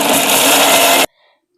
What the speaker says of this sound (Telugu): నేను ఇలా మిక్సీ పట్టా కదండి